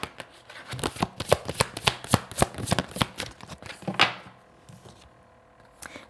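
A deck of cards riffles in a quick series of sharp, close slaps and flutters, then a softer slide as one card is drawn, followed by quiet.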